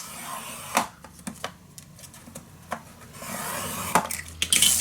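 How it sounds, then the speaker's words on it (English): A tool scores fold lines on paper for a wedding mini album, making short scraping strokes close by with sharp taps between them, then a longer rasping pass near the end. "Then I'm going to score 3 fold lines at 1/2 inch."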